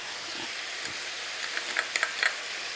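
Hoisin sauce stirred into beef sizzling in a pan as the glaze reduces, giving a steady close frying hiss with soft scraping and a few small pops toward the end.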